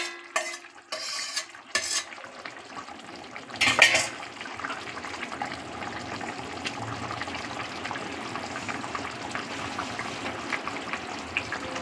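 Pre-fried eggplant tipped into a pan of vegetables, duck egg, lote and ribbonfish shutki over a medium flame: a few dull knocks, then a sharp splash of sizzle followed by a steady, close frying hiss with faint stirring scrapes.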